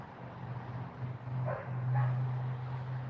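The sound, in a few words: dog barking outside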